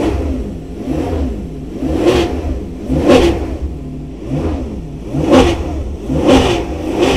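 A Kode57 car's Italian V12 engine revs repeatedly in strong surges, roughly once a second, rising and falling over a steady mechanical drone, loud and close.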